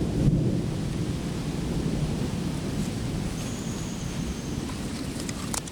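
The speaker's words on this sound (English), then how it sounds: "I don't know if you can hear that thunder off in the distance." Low rumbling thunder rolls on and off in the distance, a continuous grumble under steady outdoor ambience, with no talking.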